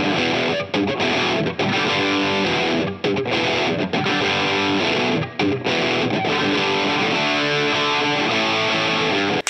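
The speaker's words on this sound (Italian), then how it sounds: "quel suono crunch, morbido, quella distorsione calda, beh, questo pedale potrebbe essere davvero la soluzione definitiva." Electric guitar played through a Kasleder Toxic Twins boutique distortion pedal set to a warm, smooth crunch, sustained chords and riffs ringing loud and continuous with only brief gaps between phrases.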